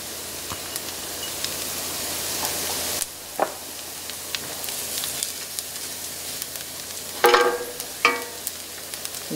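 Minced garlic sizzling in hot oil in a pan for mushroom risotto, a steady frying hiss that drops after a few seconds, broken by a few sharp stirring scrapes and spatters, close and without speech.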